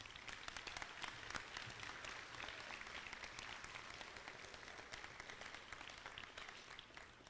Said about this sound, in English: Please join me one more time in a round of applause for our award winners tonight